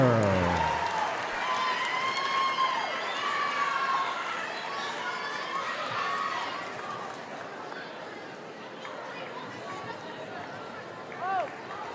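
Crowd cheering and applauding at a varsity boys' high school basketball game in a gym, honoring the Mountain View Toro cheer squad; a steady, loud wash of claps and shouts with voices mixed in throughout.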